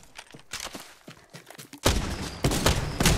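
Gunfire in the video game Apex Legends: a brief stretch of scattered quieter shots and thuds, then a loud sustained burst of rapid automatic fire that continues, dense and close, to the end.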